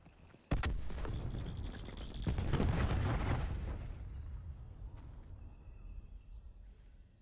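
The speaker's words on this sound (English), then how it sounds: "Throwing cluster grenade." Cluster grenade blasts in the video game Call of Duty: Black Ops 4 during a Search and Destroy match: a sharp detonation followed by a rolling series of booming explosions that slowly fade into a quieter rumble.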